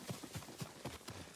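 Horse hooves clip-clop in the video game Ghost of Tsushima, five or six evenly spaced soft hoofbeats at a brisk walk, quiet and close, with no talking.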